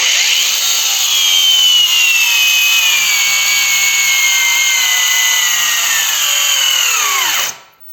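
A DRIVAK AG001 cordless angle grinder running at third speed and cutting, a loud steady high-pitched whine that holds for about seven seconds, then winds down abruptly to near silence.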